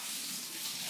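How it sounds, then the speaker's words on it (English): Brine poured off the top of a jar of fermented vegetables makes a steady, close splashing trickle for about a second, with no voices over it. "So we're just pouring off some of the top juice here."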